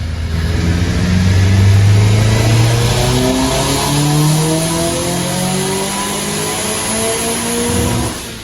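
Ethanol-powered Nissan Cube engine revving hard through a dyno pull, a loud, close, sustained roar that climbs steadily in pitch across the run with no talk over it.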